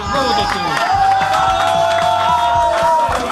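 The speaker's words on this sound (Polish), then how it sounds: "Gorące brawa" Brief cheering and applause from an audience at a slalom race awards ceremony, a short dense burst with voices mixed in.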